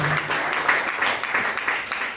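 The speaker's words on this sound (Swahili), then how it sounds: "Mpige Bwana makofi makubwa sana" A church congregation claps and applauds during a sermon, a dense, steady wash of hand claps filling the room for a couple of seconds.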